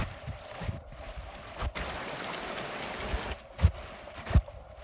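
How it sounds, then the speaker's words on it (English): A small, deep mountain creek at about 8,500 feet outside Yosemite rushes steadily as a broad, constant wash of water, with a few louder low thumps near the end. "It's a beautiful little creek."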